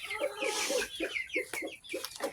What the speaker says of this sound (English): You can tell them two cockerels there